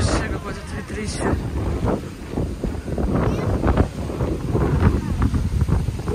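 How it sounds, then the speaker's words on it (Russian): Strong wind at a beach resort buffets the microphone in loud, gusting rumbles, with voices talking faintly underneath. "вообще, какое тут ветрище"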